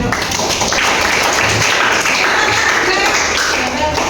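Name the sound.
classroom applause for students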